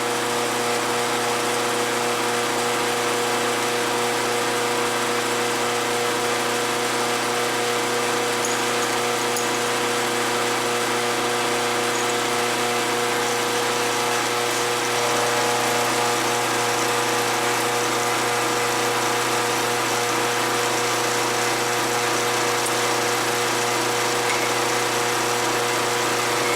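A milling spindle spins an end mill at 20,000 rpm in a grinding fixture, giving a steady, loud, unbroken mechanical whine and hum throughout.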